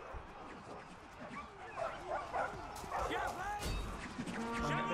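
Dogs bark, yip and whimper in a battle in the video game Total War Arena, with several overlapping barks amid combat noise and someone talking over them.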